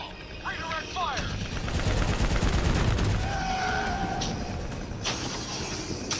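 Gunfire from the Black Ops 3 campaign, dense bursts of automatic weapon shots and explosive rumble mixed with vehicle engine noise, loud and sustained, with brief game sounds at the start.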